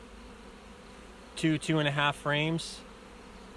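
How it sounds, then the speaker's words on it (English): Honeybees swarm around a beehive during an inspection, making a steady, low droning buzz throughout. Someone talks briefly over the hum partway through. "I mean, look at all these bees."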